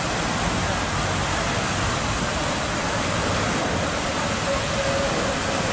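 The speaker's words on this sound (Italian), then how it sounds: "Dalle bocche delle facce rappresentate vengono fuori dei getti d'acqua" Water jets of the Crown Fountain in Chicago, spouting from the mouths of faces projected on the fountain, make a steady, loud, even rush of splashing water that holds without a break.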